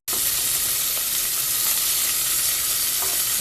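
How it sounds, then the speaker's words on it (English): Carrots and celery saute in a hot pan with a dense, even sizzle that hisses continuously at close range, broken by faint stirring clicks. "Everything just saute and soften."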